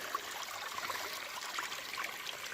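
Water trickles steadily down a mini waterfall over bedrock and moss at a placer gold site, a soft continuous babble with small splashes, moderately faint and with no voices.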